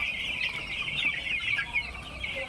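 Ten-day-old broiler chickens in a farm brooder clucking and peeping continuously as a dense flock murmur, moderately close and steady without any speech.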